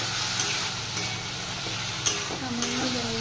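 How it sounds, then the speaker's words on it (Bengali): Food being sautéed in a pan with a little water added: a steady sizzle and hiss with occasional scrapes and stirs, close and continuous, with no talk. "এই যে একটু দিয়ে কষিয়ে নিচ্ছি, একটু সামান্য জল দিচ্ছি"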